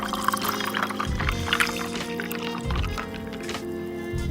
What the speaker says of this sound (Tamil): கிளாஸில் 4 ஐஸ் க்யூபை போட்டு 3 துண்டு எலுமிச்சம்பழத்தை சேர்த்து நம்ம ட்ரிங்கை ஊற்றுனோம்னா